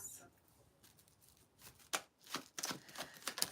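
Oracle cards being shuffled by hand, a run of quick papery riffles and slaps that build from faint to sharper bursts near the end, close up and quiet.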